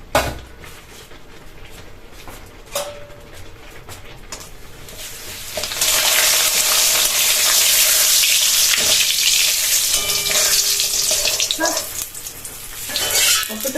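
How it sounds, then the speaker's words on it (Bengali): Papads dropped one at a time into very hot oil in a wok, a loud, dense sizzle that swells and holds, with occasional clinks and scrapes of stirring. "এবারে এই পাঁপড়গুলো একটা একটা করে ভাজি।"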